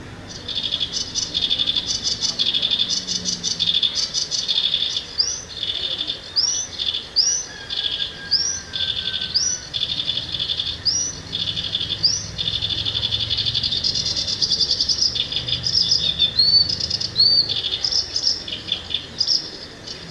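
A bird sings a long, complex song of repeated whistled phrases and chirps, steady and clear over a constant insect-like buzz.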